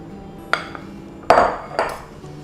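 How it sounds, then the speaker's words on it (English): A spoon taps and scrapes a few times as raspberry almond filling is dropped onto an upturned sponge cake layer, three sharp close clinks with quiet gaps between them. "I'm going to spoon the filling onto it"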